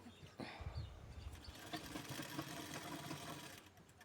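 A sewing machine stitches a blouse, a rapid mechanical whirring run that starts after a short pause and continues steadily, quiet and close with no talking.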